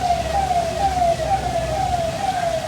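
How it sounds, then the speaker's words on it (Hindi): A fire brigade truck siren wails loudly and nearby at a factory fire in Rohtak, a steady gliding tone sweeping slightly up and down over engine rumble and crowd noise. "फायर ब्रिगेड की कई गाड़ियां इस वक्त आग बुझाने में जुटी हुई है"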